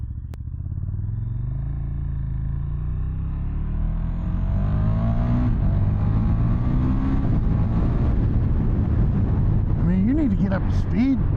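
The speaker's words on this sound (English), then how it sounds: "just twist the throttle, it just gets up to speed." A 2018 KTM 1290 Super Duke R motorcycle accelerating under throttle, its engine note rising steadily in pitch and growing louder over several seconds, heard up close with continuous rumble.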